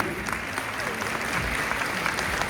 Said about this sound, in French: splendide démonstration que l'on peut applaudir sans retenue.